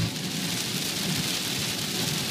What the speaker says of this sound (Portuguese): Só precisa escutar o barulho da chuva.